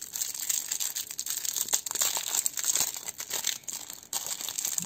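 A Yu-Gi-Oh promo card pack wrapper is torn and crinkled open close by, with busy plastic crackling and ripping throughout and no talking.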